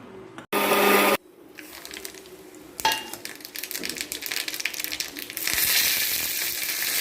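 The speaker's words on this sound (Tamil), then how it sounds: "இது எல்லாத்தையுமே கொரகொரப்பாக மிக்சியில் அரைச்சி தாளிச்சிக்கலாம்" A mixer grinder coarsely grinds peanuts, green chillies, garlic and ginger in loud bursts: a short burst near the start, then a longer noisy run that surges again toward the end, with a rattling, crushing texture.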